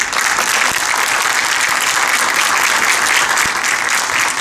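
Citizens watching a municipal council session applaud as council members leave the hall, producing a dense, even applause that stays strong and close for the whole stretch.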